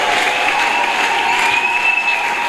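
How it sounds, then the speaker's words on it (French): A church congregation at a Sunday service applauding: loud, dense, continuous clapping with a sustained musical tone running beneath it throughout. "Acclamez très fort pour le Seigneur."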